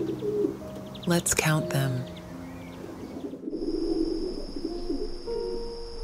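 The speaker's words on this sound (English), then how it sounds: "They cooed softly on the grassy lawn" Pigeons coo on a grassy garden lawn in a calming bedtime story for toddlers, with several clear, soft coos and a few chirps near the start, and a narrator speaking briefly over them.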